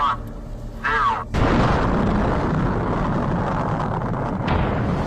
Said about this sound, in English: the nuclear bomb landed almost directly above the Navy's data gathering equipment, sinking one of its instrument ships